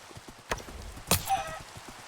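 Horse hooves in the Minecraft video game give two distinct, close clops with a short, thin tonal whinny between them, otherwise quiet.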